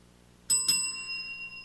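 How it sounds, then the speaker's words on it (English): Two quick strikes of a bicycle-type bell, close and clear, ringing at a shop closing time; the second strike follows about a fifth of a second after the first, and both leave a long sustained metallic tone fading slowly. "Well, that was the double bell."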